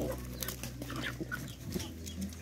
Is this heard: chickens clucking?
yes